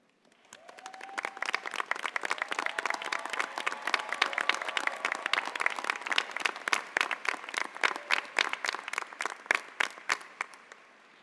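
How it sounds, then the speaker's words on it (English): A large audience at a university business school graduation ceremony breaks into sustained applause that swells quickly, holds strong, then tapers into scattered individual claps near the end. "I'd like you to stand and give a rousing applause of appreciation"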